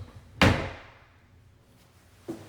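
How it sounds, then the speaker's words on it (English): A pull-out drawer in a closet shuts with one solid thunk, then a second, softer knock follows a couple of seconds later. "Pull out drawers."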